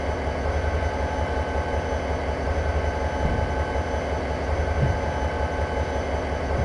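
A freight train running on the Cajon Pass route in Train Simulator, a steady low engine rumble and drone holding evenly throughout, with no speech over it.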